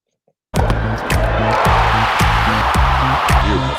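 A tennis crowd bursts into loud cheering and roaring after a sudden start from silence, sustained throughout, with repeated rhythmic tonal blasts layered over the noise.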